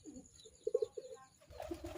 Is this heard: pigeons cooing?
yes